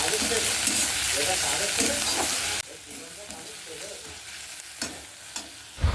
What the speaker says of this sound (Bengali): এখন মাছ ভাজা হয়ে গেছে, ওই তেলে আমি পেঁয়াজ দিয়ে দিলাম।